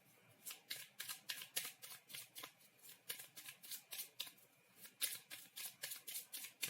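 Tarot cards are shuffled and handled up close, a quick run of crisp papery riffles and slaps in a fairly steady rhythm, quiet and unaccompanied by talking.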